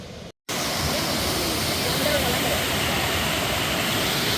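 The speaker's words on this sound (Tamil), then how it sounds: "உடையார்காட்டு குளம் வந்து வான் பாஞ்சு பாருங்க" Water spilling over the overflow of a village pond pours in a loud, continuous, close-up roar like a small waterfall, starting after a brief gap of silence.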